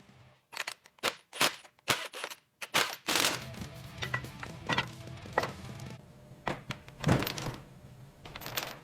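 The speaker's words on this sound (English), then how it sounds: "Let's get that gearbox mounted." Heavy gearbox from a river-salvaged Batmobile being set and fitted onto a workbench, with a series of sharp metallic clanks and thunks followed by denser shuffling and knocking, close and fairly loud with no talking.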